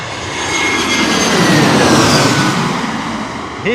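A Delta Airlines Airbus A321 jet airliner from Miami passes low overhead near Queens, a broad loud engine roar swelling to a peak mid-pass and slowly easing off, with no voices over it.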